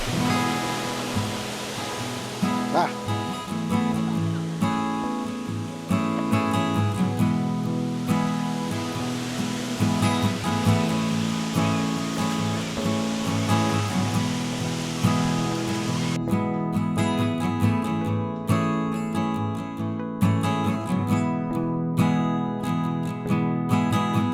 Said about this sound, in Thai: และนี่ก็คือน้ำตกยอดฮิตของจังหวัดอุบลราชธานีครับ